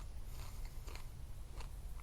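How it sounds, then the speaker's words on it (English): Crunchy bites into a Brazilian Starfish pepper with thick walls, a few sharp close crunches spaced over two seconds against a low steady background hum. "They're crunchy."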